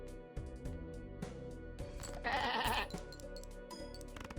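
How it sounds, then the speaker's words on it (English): A cartoonish sheep bleats once over a looping video game backing track in a card game with the Ortalab mod, rising briefly above the music near the middle. "The sheep bleated at me."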